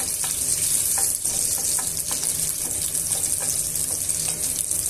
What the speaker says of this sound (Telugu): ఇందులోనే వెల్లుల్లి రెబ్బలను మెత్తగా దంచి ఇందులోకి వేసుకోవాలండి వేసుకున్న తర్వాత ఇవన్నీ బాగా మిక్స్ చేసుకొని వేయించుకోవాలి